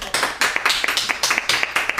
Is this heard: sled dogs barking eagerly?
no